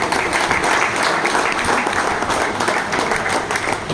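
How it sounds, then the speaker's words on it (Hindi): Crowd at an Udgir prize distribution ceremony claps vigorously, a steady, dense burst of applause holding at full strength from start to finish. "तो जोरदार तालियां भाई।"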